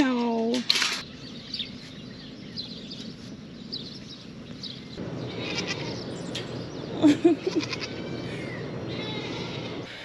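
Goats on a dairy goat farm bleat several times, near and fairly loud, with quieter rustling and faint background noise between calls.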